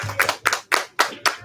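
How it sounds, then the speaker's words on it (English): Five slow, evenly spaced hand claps ring out close by at a community baby shower, each crisp and distinct with short gaps between. "You can clap it up."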